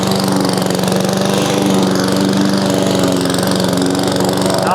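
An inexpensive Amazon Smartpower lawn mower pushed through overgrown grass, its engine droning loudly and continuously up close with a gritty, strained cutting roar throughout.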